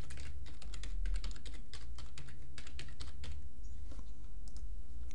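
Rapid, close keystrokes on a computer keyboard as a domain name is entered, a dense uneven patter of clicks over a low background hum.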